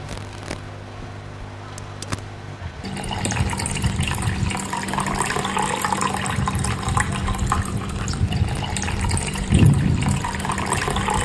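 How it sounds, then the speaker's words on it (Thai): Liquid poured into a glass at a school science show, a steady splashing gush starting abruptly after a quiet moment and running continuously for several seconds, close and fairly loud, with faint background murmur. "ฉันเอาน้ำยาปรุงดาวใส่ในแก้วนี้100มิลลิลิตร"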